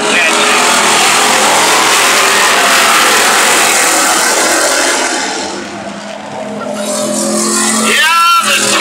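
Street stock race cars roar around the oval at a Maine speedway during a heat race, a loud, dense engine drone that dips and swells as the pack passes, with a track announcer talking over it.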